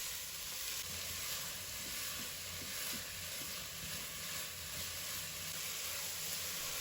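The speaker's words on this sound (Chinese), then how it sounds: "把莲藕丝倒入锅中，然后开大火给它翻炒均匀" Shredded lotus root stir-fried over high heat in a wok, a soft, continuous hiss and sizzle with faint stirring scrapes throughout.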